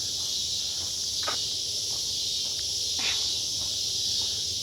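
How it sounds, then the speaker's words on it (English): Loud cicadas at Brushy Creek fill the air with a dense, continuous high-pitched drone, steady throughout, with faint rustling and scattered light sounds underneath. "The cicadas sound insane."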